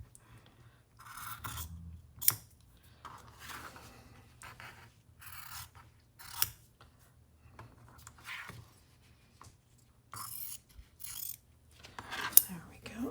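Scissors trimming paper for a junk journal: a series of quiet, short snips and scrapes spaced irregularly over a low steady hum, with soft sounds of handling paper between cuts.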